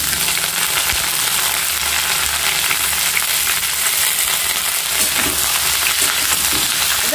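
Potatoes, with sliced ridge gourd, fry in an oiled pan, making a loud, continuous sizzle with light stirring throughout and no talking.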